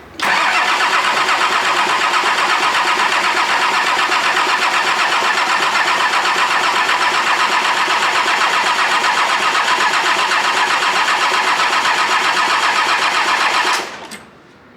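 A rebuilt Nissan TD42 diesel engine cranks in one long, loud, unbroken whir for about fourteen seconds before the sound cuts off abruptly.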